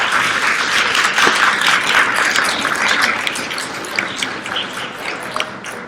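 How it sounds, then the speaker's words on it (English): Conference audience at a women's STEAM leadership event applauding, a dense wash of clapping that holds steady before thinning out into scattered claps toward the end. "if you could give them a round of applause"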